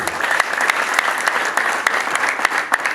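A church audience claps steadily through a hymn album launch celebration, close and loud, with dense even applause and sharp individual claps standing out.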